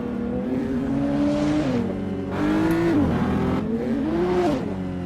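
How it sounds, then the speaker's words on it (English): Sports cars such as a BMW M135i, Ford Focus, Mercedes A45 and BMW M4s rev hard during a group cruise, engine notes rising and falling in repeated bursts of acceleration with wheel spin, loud and close. "It's going to be a lot of wheel spin action."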